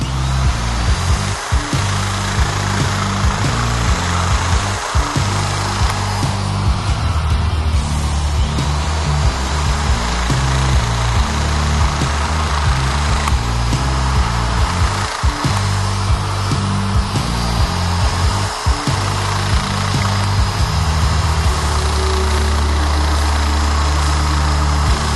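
A Makita JS3200 power shear cuts sheet metal, a steady loud motor whine running through nearly the whole stretch, with a few brief low thumps and slight shifts in tone as the cut proceeds.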